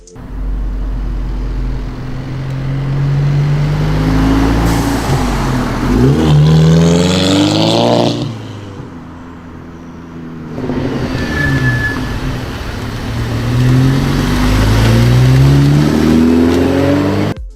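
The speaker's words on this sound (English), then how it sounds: "The 2010 Scirocco R featured a 2-liter turbocharged engine producing 265 horsepower" A 2010 Volkswagen Scirocco R with a 2-liter turbocharged engine revs and accelerates loudly in a Need for Speed racing game, rising through gears with a brief lift-off dip midway before pulling hard again.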